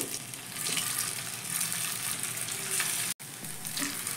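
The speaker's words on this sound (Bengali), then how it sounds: "এবার এই গরম তেলের মধ্যে আমি একটা একটা করে নাস্তাগুলো বা টিফিনগুলো ছেড়ে দিচ্ছি" Flattened rice snacks dropped one by one into hot oil, frying with a steady, close, hissing sizzle and fine bubbling that holds throughout, broken by one very brief gap.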